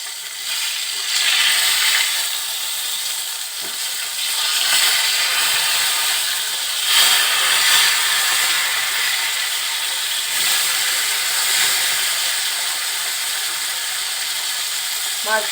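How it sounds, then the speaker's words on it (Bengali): Rohu fish pieces frying in hot cooking oil in a kadai after being flipped, a steady broadband crackle and hiss running continuously and fairly loud, with small swells and pops throughout. "এখন মাছগুলো আমি উল্টিয়ে দিব।"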